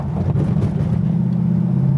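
A 1939 Buick restomod's engine and tire rumble drone loudly from inside the cabin, with faint irregular thumps as it rolls slowly over rough railroad tracks.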